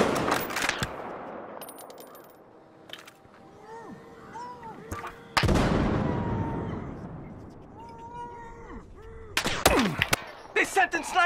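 Sniper fire in a video game, with a few loud, sharp shots that ring out with long echoing tails, mixed with other game sounds and occasional nearby rapid firing.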